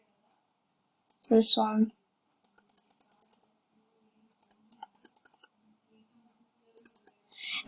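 Quick bursts of crisp mouse clicks come in short rhythmic runs during testing of a mini game, close and clear, with a brief spoken phrase near the start.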